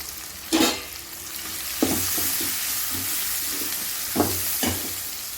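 Mutton with turmeric and ginger-garlic paste fries in a pan with a soft continuous sizzle, broken by a few louder stirring scrapes and clanks.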